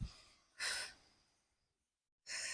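Heavy breathing during an abdominal workout: two loud, close breathy exhales separated by a long quiet pause, the first fading out slowly and the second cut off at the end.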